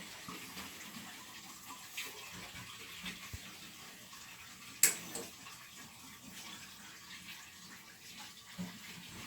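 Heating pipes being desludged, with water flushed through them under pulses of compressed air, a steady rushing gush with occasional surges and one sharp hissing burst partway through.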